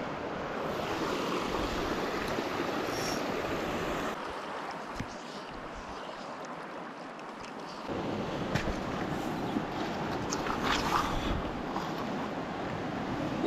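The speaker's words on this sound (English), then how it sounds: "I could definitely hear the river roaring." A river near a Vermont wetland roars with steady, broadband rushing water that continues without a break, shifting slightly in level as it goes on.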